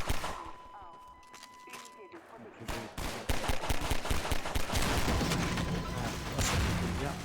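Gunfire in the Half-Life 2 video game, with sharp repeated shots that build into a dense, loud volley of rapid fire alongside mechanical game sounds.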